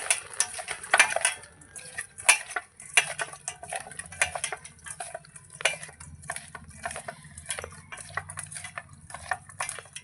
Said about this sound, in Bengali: লবণ হলুদ হাত দিয়ে ভালো করে মাখিয়ে নেবো